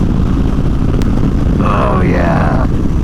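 Harley motorcycle roaring while cruising on the road, a loud, deep, continuous engine rumble mixed with wind noise, with a voice briefly rising over it.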